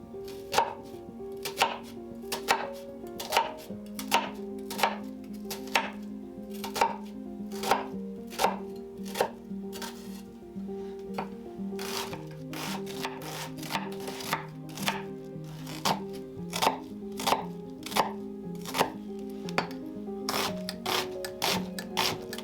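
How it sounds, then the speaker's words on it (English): A knife dices an onion on a cutting board for a skillet lasagna, steady rapid chops in a regular rhythm, close and crisp, with no talking. "I'm starting off by dicing up an onion"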